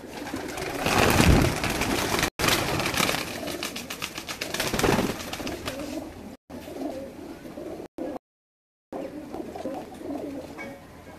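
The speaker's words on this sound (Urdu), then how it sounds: "بہت اچھے کبوتر" Pigeons coo softly on a rooftop in Kasur, amid a busy, rustling background, with the sound cutting out briefly a few times.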